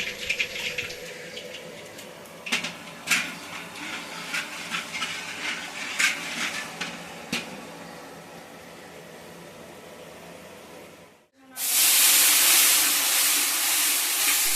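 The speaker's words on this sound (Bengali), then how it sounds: "কড়াইতে তেল গরম হয়ে গেছে এখন দিয়ে দিচ্ছি কালো জিরে ফোড়ন" Nigella seeds dropped into hot oil in a wok sizzle with a steady hiss and scattered crackles, then a loud, dense burst of frying erupts near the end, close and without talk.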